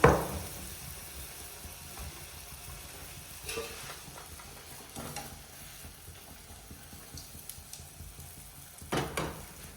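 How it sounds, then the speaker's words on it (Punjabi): Gulgule batter made with jaggery drops into hot oil and fries with a steady, soft sizzle, with a few louder bubbling surges and light clinks, and no one talking. "ਤੇਲ ਗਰਮ ਆਪਣਾ ਚੰਗੀ ਤਰ੍ਹਾਂ ਹੋ ਗਿਆ ਹੈ ਤੇ ਹੁਣ ਆਪਾਂ ਇਹਦੇ ਵਿੱਚ ਪਾ ਲਾਵਾਂਗੇ ਆਪਣਾ ਜਿਹੜਾ ਵੀ ਆਪਣਾ ਕੋਲ ਤਿਆਰ ਕੀਤਾ ਹੋਊਗਾ"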